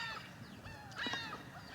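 Outdoor birds call in raspy, crow-like caws and honks, several overlapping and fairly faint against steady background noise, with no one talking.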